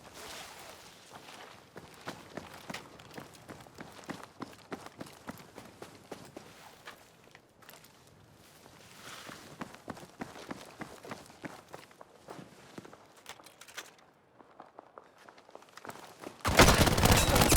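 Enemy footsteps running in the Battlefield Firestorm shooter game, a quick run of light, repeated steps with scattered game sounds around them, ending in a sudden loud burst of noise.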